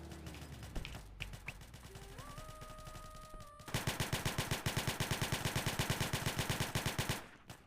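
Gunfire from a video game police shootout, with a long rapid automatic burst of loud evenly spaced shots in the second half, preceded by scattered game sounds and rising electronic tones.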